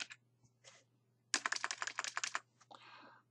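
Quick bursts of typing on a computer keyboard, a few scattered keystrokes followed by a dense rapid run of clicks, close and quiet over a low steady hum.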